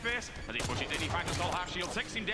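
Pistol gunfire in Halo 5 multiplayer: rapid sharp shots and bursts layered in busy game audio, with commentators talking over the action throughout.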